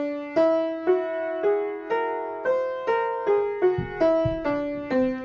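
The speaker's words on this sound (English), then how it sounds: "If I were to play all whole steps, it would sound like this." Piano plays an ascending whole-tone scale, about ten single notes struck at an even, moderate pace, each ringing clearly and alone with no talk.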